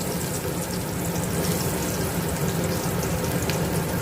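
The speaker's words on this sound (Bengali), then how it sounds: "লাল লাল করে পেঁয়াজটা ভেজে নিচ্ছি।" Finely chopped raw onions fry in a pan until reddish-brown, giving a dense, constant sizzling hiss that stays loud and even throughout, with no voices.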